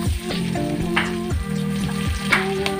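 Buttered garlic shrimp sizzling steadily in a hot pan, a continuous close frying hiss with occasional stirring clinks and pops, no talking.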